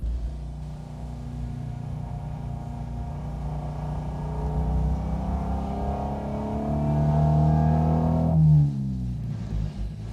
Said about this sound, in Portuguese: Parece um pouco indigno ficar acelerando assim, mas o som é tão bom